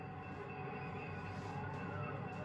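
A 1954 Santa Fe Super Chief passenger train rumbles along, a steady loud roar of wheels and cars with faint high squeal, no voices.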